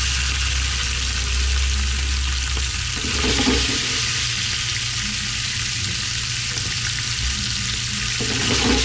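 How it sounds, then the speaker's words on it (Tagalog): Shrimp saute in a hot pan for palabok, a loud continuous sizzle and hiss up close, with occasional stirring scrapes and shifts in intensity, no talking. "Dito, igisa ko lang muna yung hipon."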